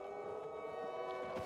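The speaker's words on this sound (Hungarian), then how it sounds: "Mi ez a sziréna hangok?" A wailing siren sounds in the zombie survival video game Dying Light 2, a sustained, steady, tonal howl heard faintly and continuously, with no voices over it.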